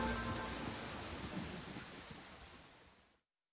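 Steady heavy rain with a rumbling thunderstorm, a dense continuous roar that fills the scene and fades out near the end.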